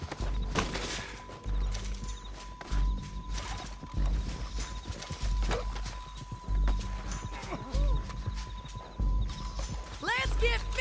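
Horse hooves clip-clop at a steady gallop in a video game, with a neigh breaking through, while voices talk over the hoofbeats throughout.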